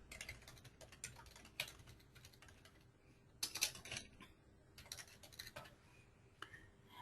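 Typing on a computer keyboard in an office setting, with quiet, irregular bursts of keystrokes and short pauses, clacking faintly throughout with no talk.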